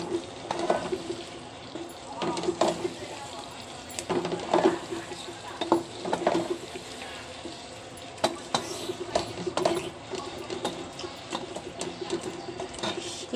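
Mango pickle with its skin on, cooked with chili powder in a pan, with irregular scraping and clattering stir strokes against the pan and a low simmer beneath, while someone talks over it.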